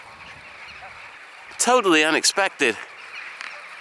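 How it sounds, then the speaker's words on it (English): A large flock of birds, probably geese, honks loudly overhead on a snowy winter evening near Caerphilly Castle, with a quick burst of several close honks in the middle. Someone speaks briefly over a steady background hum. "There's just a huge swarm of birds."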